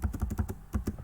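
Keys tapped on a computer keyboard, a quick run of about eight crisp, close clicks in a steady typing rhythm, with no talk.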